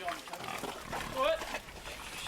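Pig grunts and squeals come in short bursts against a busy, noisy background, with people talking over them.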